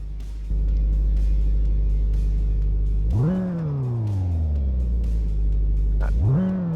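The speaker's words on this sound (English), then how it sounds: "That turbo sound." Turbocharged car engine in the My Garage video game idling with a steady low rumble, then revving twice, each rev climbing sharply in pitch and slowly falling back, loud and close with no talk.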